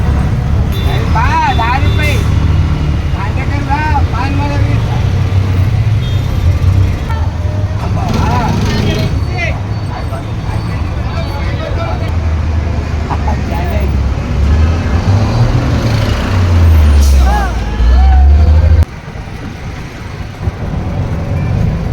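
Auto rickshaw ride through Pune traffic, a loud constant engine rumble with passing vehicles and occasional horns, someone speaking over the noise; the engine drone drops away near the end.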